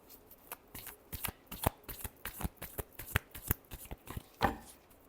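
Tarot cards are shuffled by hand in a quick run of crisp, riffling snaps and slaps, about twenty close, distinct bursts over a few seconds with a louder flourish near the end.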